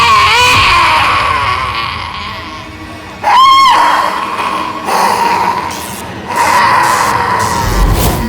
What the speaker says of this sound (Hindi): उनके चीखने चिल्लाने की आवाज पूरी सोसाइटी में कैसे गूंजती है